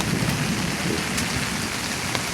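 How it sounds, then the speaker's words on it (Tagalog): Heavy rain pouring onto garden plants, a loud, dense, steady downpour close by with no voices, constant for the whole stretch. "Ayan, basang-basa ng ulan."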